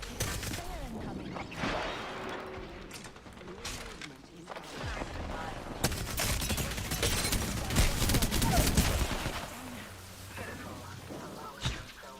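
Gunfire in the video game Apex Legends: scattered shots and rattling bursts run through a busy firefight mix, with voices talking throughout and occasional louder cracks near the end.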